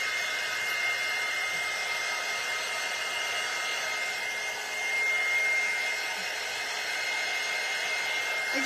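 A hair dryer blows steadily on a freshly painted second layer of a painting, a loud, continuous broadband whir held close for the whole stretch with only a brief dip midway, no talking.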